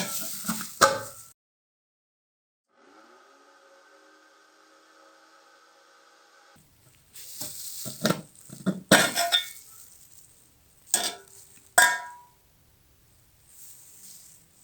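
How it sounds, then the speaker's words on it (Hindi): A kitchen mixer machine runs steadily for a few seconds while mayonnaise ingredients blend, a droning motor hum with whining tones, framed by clattering and knocking of dishes before and after. "अब तकरीबन आधा मिनट मशीन को चलाएंगे"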